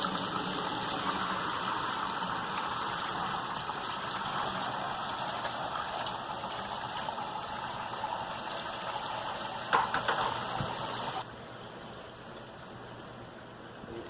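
Homemade fruit wine is poured through a cheesecloth strainer in a continuous close splashing gush that runs steadily, with a brief clatter near the end before the flow drops off into quieter trickling.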